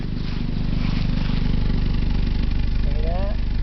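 An idling engine with a cheaply repaired exhaust that still leaks slightly at loose seals rumbles steadily and evenly, close and moderately loud, with a brief squeal near the end.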